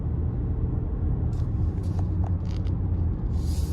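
A Mercedes GLE SUV travelling on a road gives a steady low rumble of engine and tyre noise throughout, with faint brief clicks and a soft hiss near the end.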